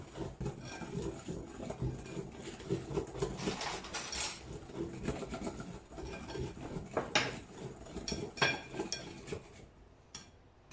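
Cupcake batter being mixed with flour in a bowl: close, irregular clinks and scrapes of a utensil against the bowl, with a few brighter knocks, and no one speaking.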